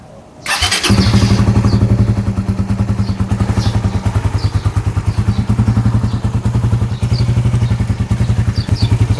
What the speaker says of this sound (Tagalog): papaandarin muna natin ang motor para umikot yung bagong langis sa lahat ng parte ng ating makina